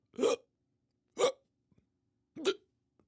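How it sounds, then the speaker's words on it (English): Three separate hiccups, each short and sharp with a gulping catch, spaced about a second apart in a quiet indoor setting, with no talk. "I got hiccups."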